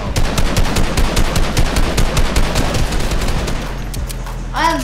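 Rapid automatic gunfire in the Fortnite video game rattles loudly in dense, continuous bursts for several seconds, easing slightly toward the end.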